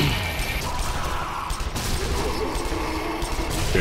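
Gunfire bursts in the Sniper Elite: Nazi Zombie Army co-op shooter, a dense, continuous rattle of shots and mechanical clatter running steadily throughout at a fairly loud level.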